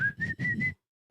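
A person whistles a tight, strained note in four quick bursts separated by short breaks, then pauses briefly before starting another burst; close and fairly loud, with no talking.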